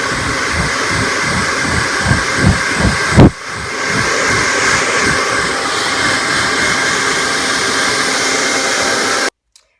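A blow dryer runs steadily close by, drying the wet coat of a Yorkie, with a brief loud bump partway through before the constant airflow continues until it cuts off near the end.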